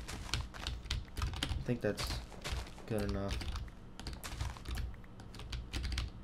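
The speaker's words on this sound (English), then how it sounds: "sorry for my keyboard's so loud" Loud, rapid clacking of a computer keyboard during Minecraft gameplay runs throughout, close and busy, with a person talking briefly over the typing.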